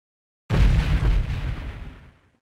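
An artillery strike in the Delta Force game, Novaya Zemlya mission: a single loud, deep explosion bursts suddenly, then rumbles and decays over about two seconds into silence.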